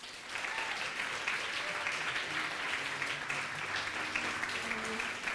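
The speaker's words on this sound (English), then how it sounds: "Give a warm applause for Lee Ning." Steady, dense applause from a lecture audience welcoming a speaker to the stage, continuous clapping at even loudness for several seconds, with faint voices underneath.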